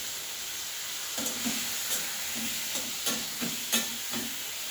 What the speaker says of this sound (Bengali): চিংড়ি মাছগুলো একদম জাস্ট হালকা ফ্রাই করে নিচ্ছি